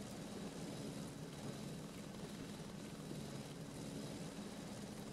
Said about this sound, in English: you can hear the helicopter going off in the background there